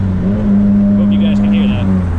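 A drift car engine with a Koyo radiator runs loud and steady with a constant drone, while a faint higher turbo whistle rises and falls near the middle.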